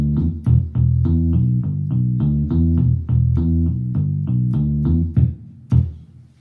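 A keyboard plays a bass line from a song as a series of rhythmic, deep synthesized notes, clear and prominent with no talking.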